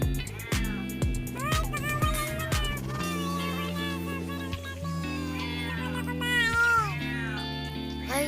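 Garfield, a pet cat, meows loudly and repeatedly, with long rising and falling cries close by, over a steady background hum and some clatter.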